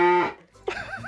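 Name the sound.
person imitating a cow mooing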